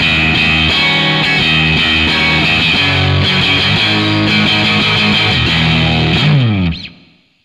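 An electric guitar with a crunchy distorted tone from a ZOOM G1X FOUR plays chords and riffs, loud and close, ending on a ringing chord that fades out.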